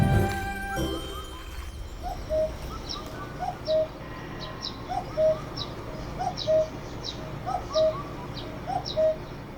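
A cuckoo's repeated two-note call rings out at regular intervals over quiet farm ambience, fairly clear and moderately distant.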